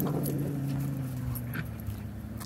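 Puppies whimpering, high thin whines and yips over a steady low tonal hum, close by, with small scuffling sounds around them.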